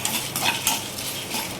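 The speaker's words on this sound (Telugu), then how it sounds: "ఇప్పుడు ఒట్టిమిరపకాయలు కూడా వేసేస్తున్నాను." Dried red chillies drop into a pan for carrot fry and get stirred, giving close metallic scraping and clinking of a spoon against the pan over light background sizzle.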